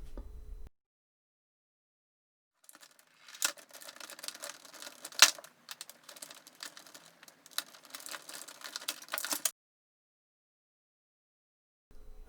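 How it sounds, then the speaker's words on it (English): A nut on a 1979 TOMY Atomic Arcade pinball machine is unscrewed while a small prying tool holds it in place, giving faint clicking and scraping metal ticks in an irregular run, close and quiet, framed by silence. "I just jam it in and hold the nut in place to unscrew it."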